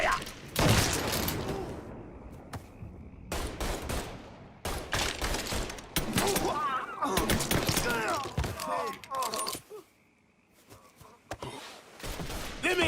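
Gunfire in a Mafia shootout: bursts of shots and loud impacts crackle in clusters with short gaps, mixed with shouting voices, a brief lull near the end before firing resumes.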